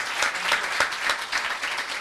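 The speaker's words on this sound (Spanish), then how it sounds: "un aplauso para Marianela" Audience applause during a live talk, a steady wash of many hands clapping with rhythmic pulses, fairly close and continuous throughout.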